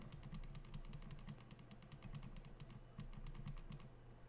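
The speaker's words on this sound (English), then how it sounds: "Scroll wheel left click. Right click, mouse button, side mouse button 1" A Roccat Kone Aimo Remastered gaming mouse with tactile TTC switches clicks rapidly and repeatedly, a dense run of sharp close clicks from the scroll wheel, left, right and side buttons over a low background hum.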